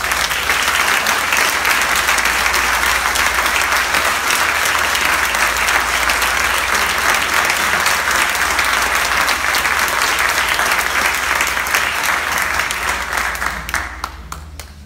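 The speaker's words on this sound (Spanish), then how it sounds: "Que su aplauso era una expresión de este afecto" An assembly of Venezuelan bishops at a plenary gathering gives long, loud, dense applause that holds steady for many seconds before fading away at the end.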